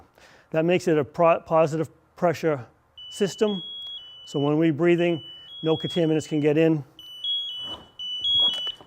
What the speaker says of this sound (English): That noise you hear right there is a check of the PASS device, a personal assistance system.